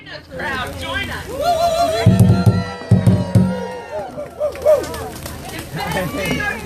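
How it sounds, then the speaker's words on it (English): Crowd at a climate justice march in Des Moines, heard as a steady murmur of voices and noise. A nearby person talks loudly over it. "I can give you a look at the crowd that's behind me."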